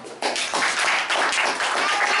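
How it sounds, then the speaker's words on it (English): A brief burst of audience clapping at a youth forum, a short run of quick handclaps rising abruptly and holding steady for a couple of seconds. "Clap for her."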